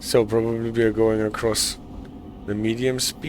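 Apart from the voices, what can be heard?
No everyday noises stand out.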